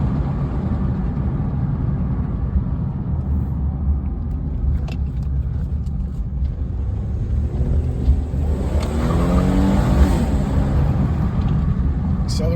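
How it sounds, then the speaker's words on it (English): A Mazda CX-9, just repaired for an electrical fault, is driven down a road: a steady engine and tire rumble fills the cabin, with the engine revving up smoothly in a rising sweep near the end. "So here I am driving it now."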